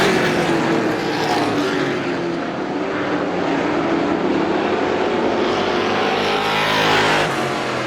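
Outlaw race cars roar around the Star Speedway dirt track in 2016, loud engines droning continuously and swelling slightly as they pass, with no talking.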